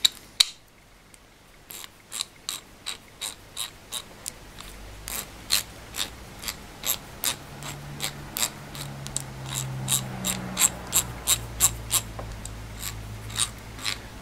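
Greased 36-tooth ratchet wrench clicking in a regular series of soft, close ticks, growing slightly faster and louder midway, with quiet handling noise underneath.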